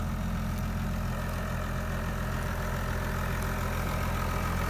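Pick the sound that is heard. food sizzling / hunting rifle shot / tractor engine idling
tractor engine idling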